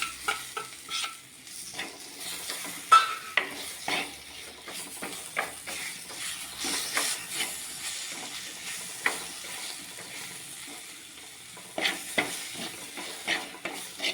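Tomatoes being stirred and fried in a pan while cooking a roasted-coconut papaya curry: steady sizzling with repeated scraping stir strokes, close and moderately loud, no voices.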